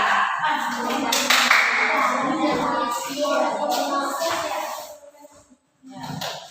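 A group of people in a class or assembly claps hands together in a loud, fairly steady burst for several seconds, with some voices mixed in; the clapping fades and stops near the end before a brief return of sound.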